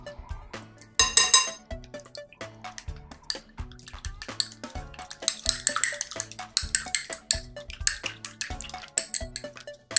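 A medium egg is beaten in a bowl for youtiao dough, giving quick, rhythmic clinks and taps of a utensil against the bowl, close and fairly loud, with a soft tonal background between strokes.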